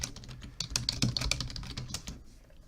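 Fingers type a new password on a computer keyboard during Windows Server 2016 setup: a quick, uneven run of close key clicks that goes quiet near the end.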